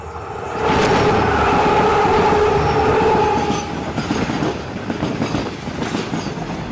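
A train passes close by at Bekal Fort railway station in Kasaragod, Kerala. There is a loud rumble and wheel noise for a few seconds, then it settles into fainter clattering of the cars.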